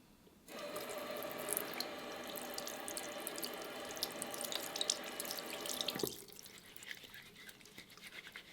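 A sink tap runs steadily for about six seconds while Lush lemon zest soap is lathered in the hands, giving a soft, close hiss and splash before the flow shuts off.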